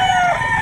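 A rooster at an outdoor chicken market lets out a brief, loud, close crow, a strained nasal cry held for under a second.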